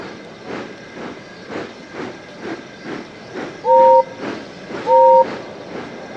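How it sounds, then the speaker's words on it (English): Rhythmic steam chuffing from a locomotive arriving at a station, with two short, clear whistle blasts sounding a second apart over the steady puffing. "Everyone knew that whistle, and a mighty cheer went up as the Queen's train glided into the station."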